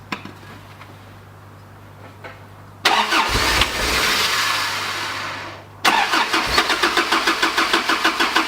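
A Toyota Land Cruiser engine cranks and catches after a quiet hum, surging loudly, briefly dipping, then settling into a loud rhythmic chugging run close by, with no talk.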